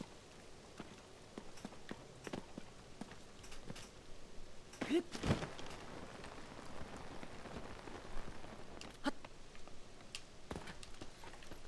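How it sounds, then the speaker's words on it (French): Rain pattering steadily on surfaces in the game Zelda Tears of the Kingdom, a soft continuous hiss with scattered louder drops and brief thumps, moderately quiet throughout. "Pourquoi il pleut?"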